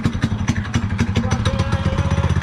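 A Coleman CT200EX minibike engine fitted with a new muffler runs close by, a steady rapid putter with an even, pulsing beat throughout.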